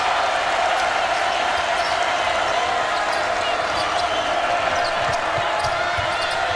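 A college basketball crowd in Baton Rouge roars during an LSU home game against Houston. The cheering is a loud, dense wash of noise that holds steady and unbroken throughout.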